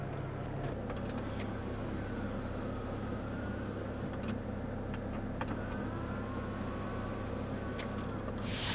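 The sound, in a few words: car's electric rear window shade operating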